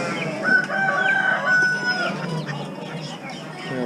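At a small animal auction, a Rhode Island Red chicken clucks and crows nearby in short, raspy calls, with soft chatter and crowd noise behind it.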